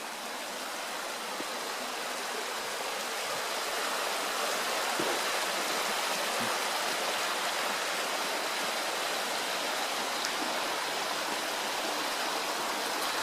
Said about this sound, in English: Another waterfall. It's a little bit stronger than the one we saw before.